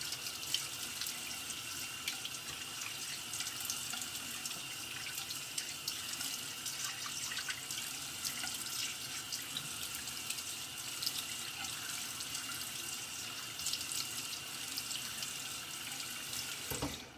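Tap water runs steadily into a sink while a two-piece safety razor is rinsed, a constant close hiss and splash with no talking.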